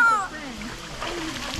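Water splashes briefly in a cenote in Mexico where people are swimming and fishing, with voices talking over the sloshing.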